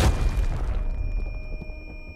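A grenade explodes in Arena Breakout with a loud, sharp boom and low rumble that fades out over about two seconds, followed by faint ringing tones; no talk.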